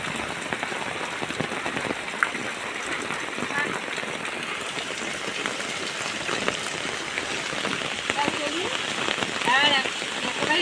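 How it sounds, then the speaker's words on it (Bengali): Steady rain pours down in a rural village, a dense hiss of drops drumming on surfaces that stays close and even throughout, with no voices over it. "আমি এই বৃষ্টিতে ভিজছি"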